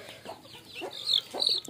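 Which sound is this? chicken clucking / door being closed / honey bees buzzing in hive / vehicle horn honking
chicken clucking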